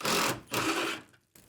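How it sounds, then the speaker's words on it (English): Impact wrench loosening strap bolts on a project car, two loud buzzing bursts close by, the first about a third of a second, the second longer and tapering off, then a brief silence. "So we're gonna hit that with the Ugga Dugga machine and see what happens."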